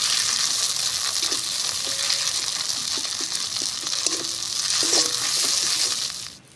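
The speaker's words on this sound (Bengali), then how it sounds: "সব মশলা আমি ভালো করে একটু ভেজে নেব।" Spices sizzle in hot oil in a pan for a mustard pabda fish curry, a continuous bright crackling fry with soft scraping knocks of a spoon stirring through it, close and steady until it fades at the end.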